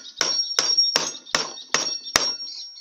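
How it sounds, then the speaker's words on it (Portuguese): A new hammer with an iron handle strikes a nail six times in an even rhythm, each blow a sharp, close metallic knock with a brief ringing tail. "Vamos ver se nosso martelo funciona mesmo de verdade."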